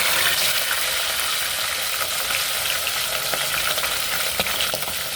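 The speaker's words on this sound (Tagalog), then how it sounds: "Ayan, nainit na yung ating mantika." Chicken pieces frying in hot oil in a home kitchen, a steady loud sizzle and crackle that holds throughout with small bursts of spatter and no talking.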